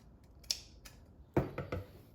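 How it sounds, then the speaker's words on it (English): Scissors trimming fabric for an ornament, a single crisp snip followed by a quick cluster of three or four close cuts, quiet between, no voices. "And then you will just go ahead and trim that little section."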